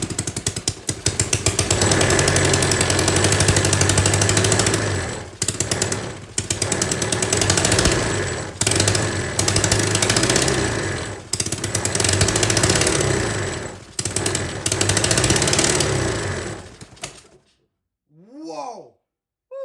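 A homemade gas engine revs hard at high RPM, its loud, rough, rapid firing roaring steadily with brief dips for about seventeen seconds before cutting off abruptly into near silence, followed by a faint whirring spin-down.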